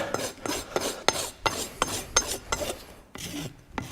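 Steady, rhythmic rasping strokes, about ten in four seconds, each a coarse scraping burst from a rasp worked back and forth over a horse hoof, close up.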